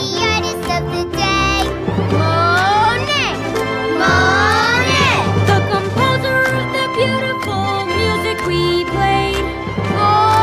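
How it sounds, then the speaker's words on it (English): Young children cheer and call out together over loud cartoon music, a lively mass of excited kid voices continuing throughout. "Let's give a big cheer for the artist of the day."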